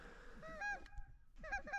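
Geese honk repeatedly at close range during a goose hunt at last light, several loud nasal calls in quick bursts with a brief pause between groups, over outdoor background noise.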